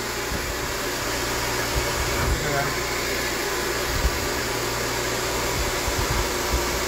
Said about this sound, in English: So I'm gonna start the blowout.